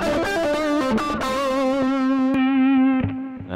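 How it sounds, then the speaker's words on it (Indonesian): Electric guitar run through the distortion channel of an RPM Pedals Strips Last Lie 7-in-1 multi-effect pedal, playing a loud, sustained, saturated line of several changing notes that rings out alone, with a brief pick scrape near the end. "distorsi."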